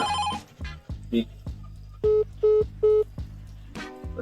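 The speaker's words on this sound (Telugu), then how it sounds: "ఫోన్ వస్తుంది, ఫోన్ ఎత్తేది లేదా?" A telephone rings in short repeated electronic bursts, three evenly spaced tones standing out between other brief sounds, fairly close and clear.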